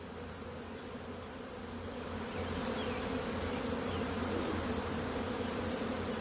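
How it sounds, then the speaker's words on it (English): A swarm of honey bees, including several mated queens, fills the air with a dense, continuous buzzing hum, close and steady and slightly swelling partway through, with no talking. "the bees are confused too, because they don't know really where to go"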